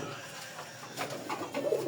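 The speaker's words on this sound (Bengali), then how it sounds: "আমার খামারে 2 জোড়া কলসিবানের কবুতর আছে" Pigeons coo at a farm housing Kalshiban breed pairs, soft low calls rising in the second half over a steady faint background hiss.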